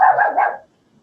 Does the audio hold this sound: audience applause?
no